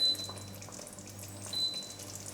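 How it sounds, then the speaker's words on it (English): Pasta sauce with Toulouse and chorizo sausages bubbling gently in a pan, a soft, close sizzle and faint popping with a low steady hum beneath, no voices. "just gently get it bubbling"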